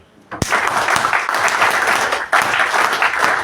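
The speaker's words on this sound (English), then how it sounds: "A big round of applause" Loud, dense applause from an audience at a motivational talk on mind mapping, starting abruptly with a sharp clap and continuing steadily with a brief dip before swelling again.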